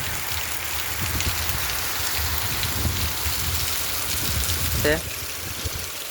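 Steady heavy rain pours down in the Gir forest, a dense continuous hiss filling the whole stretch, with a voice speaking faintly beneath the downpour.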